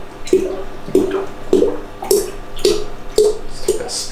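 Malt liquid is poured into a Pinter brewing vessel in a series of repeated glugging splashes, about seven regular gulps, close and moderately loud.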